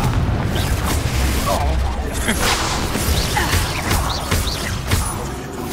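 Spell explosions in the Hogwarts Legacy video game, repeated booms and whooshing blasts in quick succession over a continuous rumble, with voices shouting throughout.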